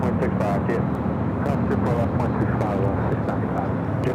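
A JetBlue Airbus A321 jet arriving at LAX roars steadily and loudly throughout, with people talking over the engine noise.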